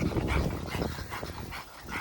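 An exotic bully dog barks several times in quick bursts, close and fairly loud, over an outdoor background.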